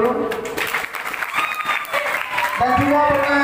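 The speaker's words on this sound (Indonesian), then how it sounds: "tepuk tangan dulu." Applause from a seminar audience at a school student council leadership event, a burst of clapping from the crowd that swells toward the end, with voices and murmur underneath.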